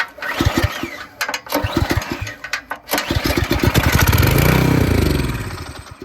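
A small go-kart engine, an old kart's motor, cranks with a series of sharp sputtering pulses, catches, and settles into a steady loud running drone up close, with no talk over it.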